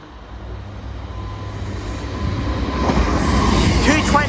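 A CrossCountry Class 43 HST train arrives at Barnt Green station, its diesel rumble and rail noise growing steadily louder as it approaches.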